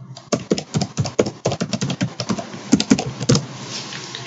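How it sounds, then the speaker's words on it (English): Rapid, uneven keystrokes on a computer keyboard as a password is entered, close and clear, with a short burst of clicks and brief pauses between them, no talking. "So let's enter the password"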